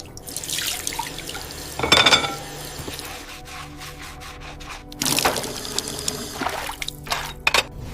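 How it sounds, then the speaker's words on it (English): Tap water runs and splashes into a kitchen sink while dishes are washed, with bursts of flow, drips and light clinks of crockery, close and moderately loud, no talking. "I clean the dishes"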